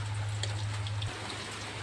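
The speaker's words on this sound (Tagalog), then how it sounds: "Habang yung paligid natin umuulan" Rain falling outside on a rainy evening makes a steady, soft hiss of drops on surfaces, with a low hum underneath and no voices.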